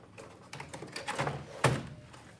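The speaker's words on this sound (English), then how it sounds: "We also have Velocifier mechanical keyboards" A Velocifier mechanical keyboard typed on in a school esports computer room: a quiet run of irregular clicky keystrokes ending in one sharper clack.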